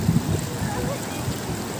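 Cold stream water at Paaniyeli Poru in Ernakulam runs in a steady wash with light splashing and gurgling, close and continuous throughout, with a voice or two faintly mixed in.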